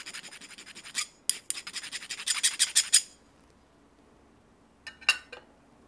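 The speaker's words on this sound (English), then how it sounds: "File down the top of your favorite coin, just enough to give it an abrasive edge." A file rasps across the top edge of a coin, giving short scratchy strokes in a quick run, a pause, then two more brief strokes, close and fairly quiet with no talking.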